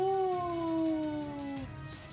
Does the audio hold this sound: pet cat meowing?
yes